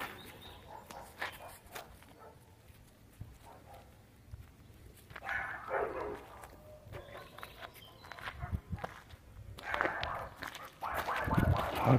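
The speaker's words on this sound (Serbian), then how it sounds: "Kuca pobega u dvorište. Pobega u dvorište, ali laj." A dog barks in a yard in scattered bursts that grow louder toward the end, over faint background noise.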